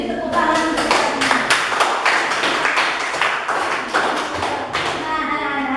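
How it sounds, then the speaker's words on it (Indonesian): Children in a primary school classroom clap together in a loose, rhythmic pattern of distinct sharp claps and thumps, close and loud, with young voices mixed in. "Beri tepuk tangan untuk kalian."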